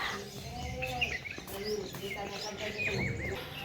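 Sparrows coming to scattered grain in the morning chirp in short, bright bursts. Quiet talk and household sounds are audible underneath.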